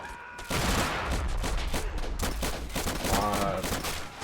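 Mortar and gunfire in the Army Men: Plastic Wars video game, a dense rapid fusillade of shots and blasts that starts abruptly and continues loudly throughout.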